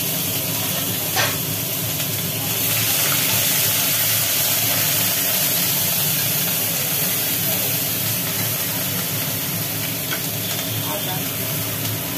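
Garlic paste hits hot oil in a pan while cooking a doi katla fish curry, giving a loud, dense, unbroken sizzling hiss throughout.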